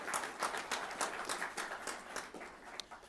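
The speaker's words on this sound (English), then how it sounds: "Please join me in offering a round of applause for" Audience applause at a NASA headquarters honor awards ceremony, faint, distant clapping from a seated crowd with an uneven patter of hands and no voices over it.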